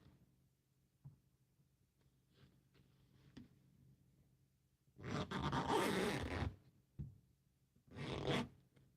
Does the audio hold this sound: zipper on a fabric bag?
yes